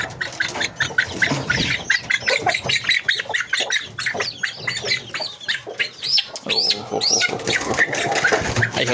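A pen of two-month-old Muscovy ducklings (dongtao) squawks and peeps continuously, many overlapping bird calls close by and loud, with a few brief lulls.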